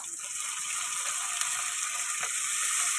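Ginger, garlic and onion paste frying in a pan for chilli soybean, a steady loud hiss that holds throughout with faint metallic scraping, no voices.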